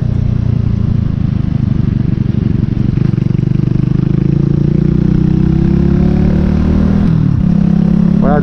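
An Archive Scrambler 125 (AM64) motorcycle fitted with a Megaton silencer, ridden on the road toward a town centre: a loud, close, continuous exhaust drone that shifts and climbs in pitch near the end.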